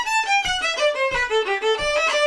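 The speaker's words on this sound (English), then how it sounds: "There's a really fun tune of his called the Cocoron, which sounds like this." A solo fiddle plays the Acadian reel the Cocoron with a flat fourth-finger note, short bowed phrases with a bouncing rhythm of regular accents, close and clear with no voices.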